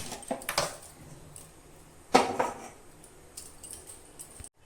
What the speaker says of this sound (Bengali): বড়াটা ভাজার জন্য কড়াই বসিয়ে দিব।